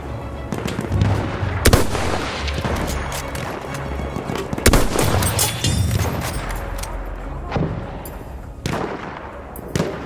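Battlefield 1 combat with an enemy artillery barrage: dense, continuous gunfire and heavy booming blasts, with sharp loud impacts near 2 and 5 seconds over a constant rumble throughout.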